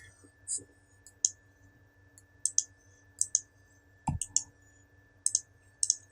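A computer mouse clicks in short, crisp pairs and singles, spaced irregularly and close up, with one low thump partway through and quiet background hum.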